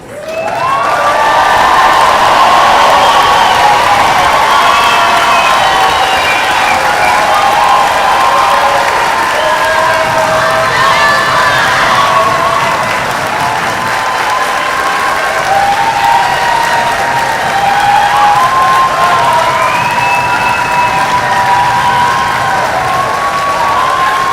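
Sustained loud applause and cheering from a hall audience greets the standing veterinary class at a white coat ceremony, a dense wall of clapping with scattered whoops lasting throughout.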